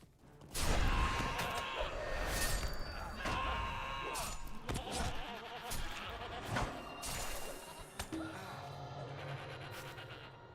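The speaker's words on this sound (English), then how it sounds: "What a rude goat." A goat bleats in the online game LOTRO amid a busy mix of game effects, with repeated crashes, thuds and clatter over several seconds.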